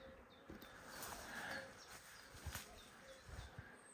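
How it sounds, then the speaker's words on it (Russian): A wild bee swarm clustered in a cluttered rural spot gives off a soft, steady buzzing, close but faint, with a few brief knocks and rustles. "А здесь вот пчелы, пожалуйста."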